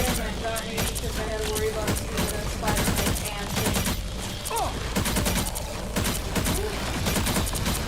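Pulse cannons fire in a video game as a loud, rapid barrage of repeated bursts, continuous across the moment with mechanical clatter and game effects mixed in.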